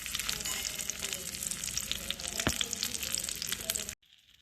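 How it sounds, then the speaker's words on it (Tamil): A tomato omelette made with duck eggs fries in a pan, giving a close, steady sizzle with faint crackles that cuts off abruptly near the end. "நம்மளோட டொமேட்டோ எக் ஆம்லெட் நல்லா குக் ஆகிட்டு இருக்கு"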